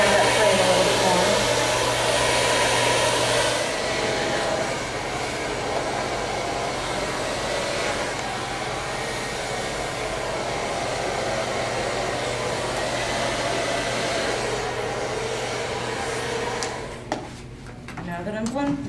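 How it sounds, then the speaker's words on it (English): A hair dryer roars steadily and close while blow drying hair, one continuous loud whoosh that barely changes pitch before cutting off near the end. "Now that I'm blow drying,"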